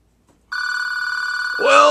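A telephone ring tone sounds while a phone call is being placed. One steady electronic tone starts abruptly after a short silence and holds for about a second before a voice cuts in.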